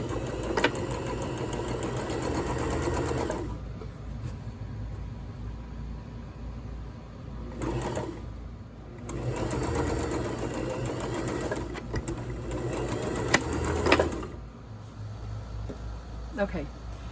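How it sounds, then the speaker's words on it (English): Sewing machine stitching an elastic channel in fabric for a mosquito net, running in steady bursts of rapid mechanical whirring with short pauses between runs, close and moderately loud. "I'll put it in and then I'll sew up the back."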